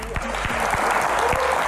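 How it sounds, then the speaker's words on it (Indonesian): An indoor audience at a televised Q&A with Indonesia's health minister breaks into loud, sustained applause, with dense clapping that holds steady throughout and a faint crowd murmur underneath. "Tepuk tangan paling meriah"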